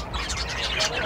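Parakeets in a restaurant give dense, overlapping chirps and tweets close by, a busy chatter of several birds with a person's voice mixed in.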